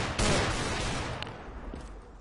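Gunfire in the video game CS:GO: a loud, dense burst of shots at the start that gradually trails off over about two seconds.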